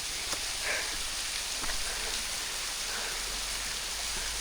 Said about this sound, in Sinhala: කොහොම හරි දිය පාරක්